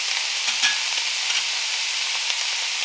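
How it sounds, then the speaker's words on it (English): Meat and onion frying in a pan, a steady loud sizzle with a few faint stirring scrapes, no voices, for stuffed bell peppers. "we're gonna cook this until the onion is translucent"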